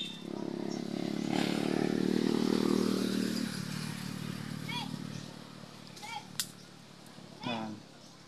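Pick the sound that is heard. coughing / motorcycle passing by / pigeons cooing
motorcycle passing by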